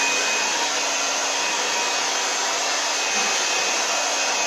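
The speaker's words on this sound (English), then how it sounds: "I've got my hair dryer here. I'm going to turn it on" A hair dryer blows continuously at full power, a loud, steady, close-up whooshing roar with no talking.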